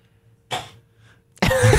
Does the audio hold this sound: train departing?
no